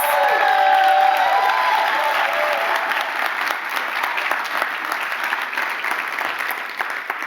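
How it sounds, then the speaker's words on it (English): A theatre audience at a live show of personal stories about mental health and trauma applauds the storytellers, a dense, steady wash of many hands clapping that carries on throughout and slowly eases near the end. "Let's give another round of applause to our incredible storytellers."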